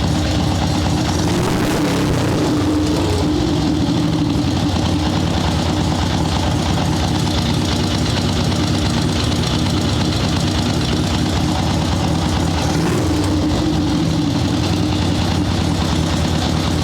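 A swap-meet chopper motorcycle engine runs loud and close after carburetor tuning, a steady low rumbling idle with throttle snaps that swell and bog slightly before settling back.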